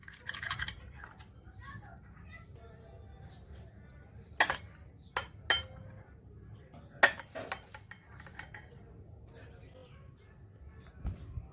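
A knife or fork cuts through soft coconut pudding on a plate, giving several sharp clinks of metal on the dish against a quiet background.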